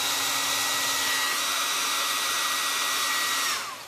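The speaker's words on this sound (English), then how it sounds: "plug this hair dryer in real quick" A hair dryer blows with a steady, loud whooshing hum, then winds down as it switches off near the end.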